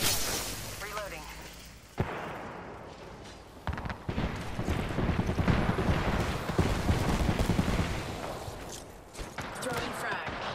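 Gunfire in the tactical shooter Rainbow Six Siege, a sharp shot followed by a sustained dense stretch of rapid firing and clattering effects, with game voice callouts heard over the action.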